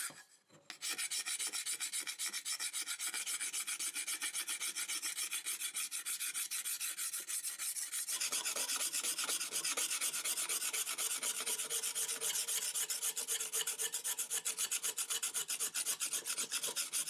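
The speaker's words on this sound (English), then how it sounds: "That's probably the fastest I ever removed varnish from a handle." Homemade hardened steel scraper with a burred edge scraping varnish off a wooden handle, a steady rapid rasping of repeated close strokes that starts after a brief quiet moment and carries on without pause.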